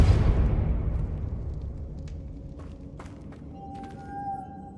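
A spell cast in the video game Hogwarts Legacy lands as a heavy booming blast that decays into a long rumbling tail, and a brief tonal chime rises near the end.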